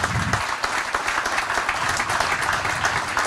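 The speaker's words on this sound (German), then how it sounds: "Ich würde sagen, das ist ein ganz großer Applaus wert." A live audience at a talk show in a small venue in Schorndorf gives hearty applause, thick continuous clapping at close range with a brief low voice at the very start.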